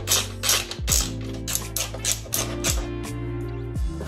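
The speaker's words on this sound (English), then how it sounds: "So I'm gonna take these screws off" A ratchet or screwdriver clicks in quick bursts while screws come off a radiator fixture on a 1990 Honda CRX, several loud close ratcheting runs separated by brief pauses.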